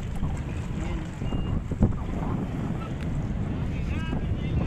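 Blustery wind buffets the microphone in a constant low rumble on the Dampalit mega dike in the afternoon, with faint splashing water underneath.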